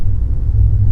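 A Suzuki Aerio facelift hatchback with a manual transmission accelerates in second gear, giving a steady, loud, low engine rumble with road noise that runs evenly through the whole short moment.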